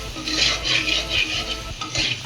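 A spoon stirs chicken curry ingredients around a pan for a chicken bhuna gravy, scraping in a quick repeated rhythm close up with a faint sizzle underneath.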